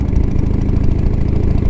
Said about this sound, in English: it sounds like one of the bushings for the exhaust is probably worn out, because I'm hearing a lot more exhaust than I usually do